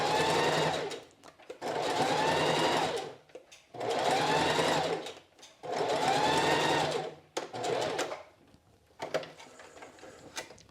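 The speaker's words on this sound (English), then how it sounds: "So I'm over to my machine, and the first thing I'm going to do is sew down this first crease" Sewing machine stitching down a bias tape crease, running in four steady whirring bursts of about two seconds each with short pauses between, then slowing to a few brief stitches.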